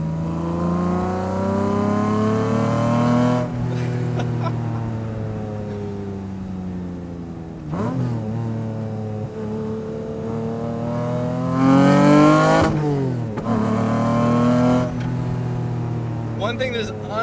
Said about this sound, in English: One thing that is undeniable about this engine versus my old car is the sound. You cannot beat this sound. When you really get up there, it just screams.